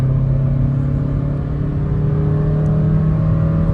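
A small crossover's engine holds a steady, loud high-rev drone at full throttle, a constant whirring roar with no pauses.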